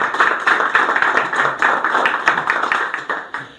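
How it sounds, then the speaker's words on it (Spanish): Studio audience clapping steadily to welcome guests on an Argentine folk music program, a dense run of overlapping handclaps close by with rapid rhythmic peaks, heard alone without talk. "Los recibimos con un fuerte aplauso primero."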